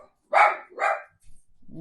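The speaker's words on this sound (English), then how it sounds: "got to let the dogs out because they're barking again" Dogs bark twice in quick succession, loud and close, followed by a quieter grunt or yip.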